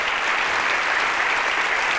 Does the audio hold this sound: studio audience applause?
yes